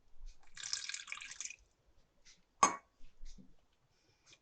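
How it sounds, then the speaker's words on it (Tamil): Water poured into a pan of sauce for cauliflower Manchurian, a trickling, dripping splash for about a second, then a sharp clink of utensil against the pan and a few softer knocks, close and fairly quiet. "இன்னும் கொஞ்சம் தண்ணி ஆட் பண்ணுறேன்."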